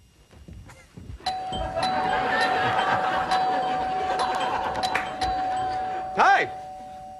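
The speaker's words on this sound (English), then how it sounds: "George, Mike, then Greg, I'll bring you in with a doorbell noise, with my doorbell" A doorbell rings on stage at a UK improv comedy show, a sustained chime tone followed by a clear two-note ding-dong near the end, heard over audience murmur, laughter and talking.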